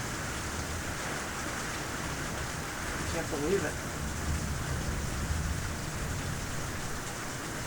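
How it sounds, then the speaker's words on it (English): Heavy rain pours steadily outside a home office in Montauk, a dense, continuous wash of noise filling the whole clip, with a voice speaking briefly over it partway through. "I do believe that this is an abnormal amount of rain"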